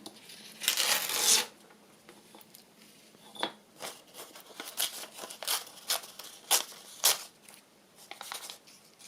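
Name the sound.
tearing off a piece of material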